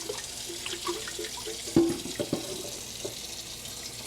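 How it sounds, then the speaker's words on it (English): Water running and splashing in a sink as rinse water is drained off white rice, close and fairly quiet, with a few clinks and sloshes midway. "we're gonna keep draining the water off until it's no longer murky"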